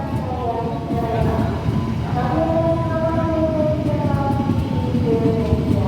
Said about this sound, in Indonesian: Ini kita masuk stasiun Cikarang udah telat lah, bawah 7 ya.